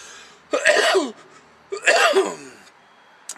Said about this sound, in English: I didn't mean to cough in your ear.